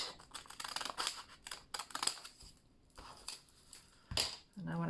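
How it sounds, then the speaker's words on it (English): Scissors trimming paper for a folding box, a series of crisp snipping cuts at close range, irregular and quiet, with short pauses between strokes. "I can't do that with my paper trimmer, so I'll do it with scissors."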